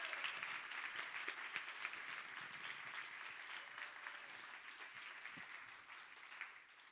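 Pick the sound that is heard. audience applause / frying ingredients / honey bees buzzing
audience applause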